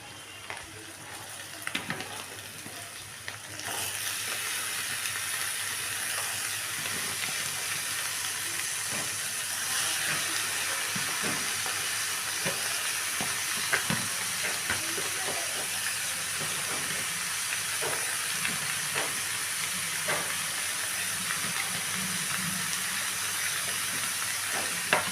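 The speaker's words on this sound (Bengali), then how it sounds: "এবারে আমি এখানে কেটে রাখা চিচিঙ্গা আর আলুটা দিয়ে দিচ্ছি।" Snake gourd and potato pieces sizzle in a hot pan, a steady close hiss of frying that jumps up after a quiet start, with repeated scraping and clacks of stirring throughout.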